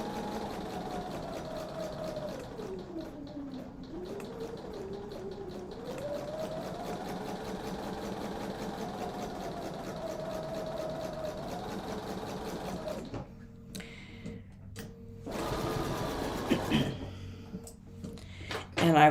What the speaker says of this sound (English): So I will tend to start, and I will sew on the line.